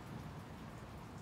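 Steady rain during Typhoon Uwan in the Philippines, heard from inside a house as a dense, even hiss with no breaks or voices.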